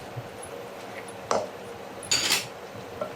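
Pork caldereta with potatoes and carrots stirred in a pot, giving two short clinking scrapes of a utensil against the pot amid quiet kitchen background, with no talk.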